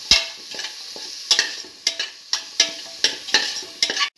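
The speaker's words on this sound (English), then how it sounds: "Mix the potato pieces thoroughly with the rest of the mixture." Potato pieces are stirred in a frying pan with a spoon, giving a series of clinking scrapes against the pan, roughly two per second, over a soft steady sizzle.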